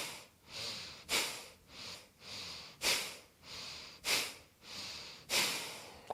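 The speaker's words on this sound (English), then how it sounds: "But you're really moving like bellows. Exhaling the air, the hot air." Forceful bellows breathing in a yoga practice: a steady series of sharp, rhythmic exhalations about every second and a half, close and clear with quieter inhales between, no talking.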